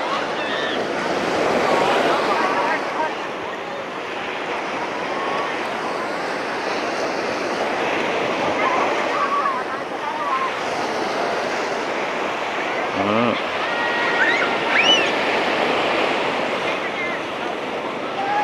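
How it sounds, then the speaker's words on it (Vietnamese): Gentle sea waves wash continuously onto the calm back beach at Vung Tau, a steady surf hiss mixed with wind noise on the microphone. "bãi trước thì nó sóng, bãi sau như thế này là im lắm rồi chị. Nước biển nước đang lên."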